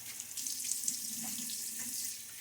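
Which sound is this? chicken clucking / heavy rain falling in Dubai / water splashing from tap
water splashing from tap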